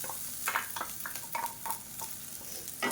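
Ground coconut, green chili and ginger being stirred and fried in hot oil for kolukattai, with steady sizzling and repeated scraping strokes of a spoon against the pan, close and moderately loud.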